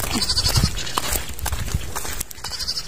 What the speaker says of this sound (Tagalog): yung mga alaga ni Little K na kambing.